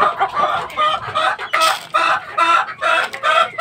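Fighting rooster raised for December cockfights crows and clucks repeatedly, loud and close, in a series of harsh bursts with no talk.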